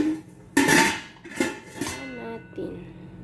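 A lid set onto a cooking pot, a few sharp metallic clanks and a ringing rattle close by, with someone talking around them.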